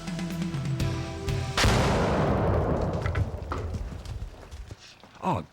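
A hunting rifle shot at a big buck cracks loudly and alone, its roar rolling away over a long decaying tail, with faint calls and rustle toward the end.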